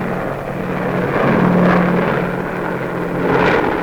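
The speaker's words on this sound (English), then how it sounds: "500 huge bombers in wave after wave." Droning engines of a massed wave of WWII heavy bombers flying over the Mediterranean, a steady, loud aircraft roar with a low humming tone that swells and eases slightly, no voices.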